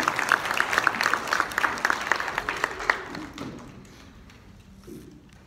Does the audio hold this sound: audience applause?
yes